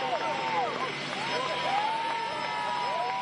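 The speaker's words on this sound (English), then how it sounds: "This is when they landed over at Love Field here in Dallas" A passenger airplane lands and taxis at Love Field in Dallas, its engine whine rising and falling in long sweeping tones over a steady roar, with people talking.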